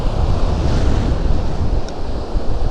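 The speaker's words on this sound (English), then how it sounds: "but it is windy, so it makes it hard." Strong wind buffeting the microphone on a surf beach during fishing, with crashing waves rolling underneath; a loud, continuous roar that swells and dips without a break, no voices.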